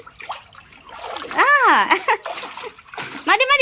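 Water splashes and trickles outdoors beside a mushroom-farming plot as it flows toward the cultivation, loud and close in several bursts, with people talking over it.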